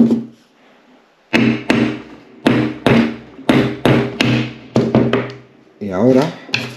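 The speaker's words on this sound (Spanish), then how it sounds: "Este pasador se suele hacer con una llave de tubo como esta y dando un martillazo aquí." Repeated hammer blows on a socket wrench driving out a linkage pin on a VW T4 van, about eight sharp metallic knocks in an uneven rhythm, loud and close, with a brief voice near the end.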